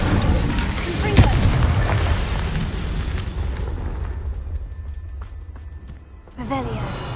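A Confringo fire spell explosion in the game Hogwarts Legacy goes off as a sharp blast about a second in, then rumbles under a dense, noisy game soundtrack that thins out before swelling again near the end.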